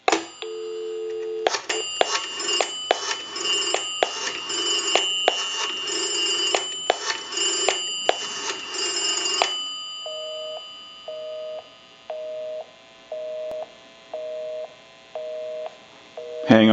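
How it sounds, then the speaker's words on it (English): A repaired and converted three-slot payphone giving a steady dial tone with dialing chirps and tones, then switching to a busy signal of short evenly spaced beeps repeating, ending with a clunk of the handset. "We'll call my number and it'll be busy."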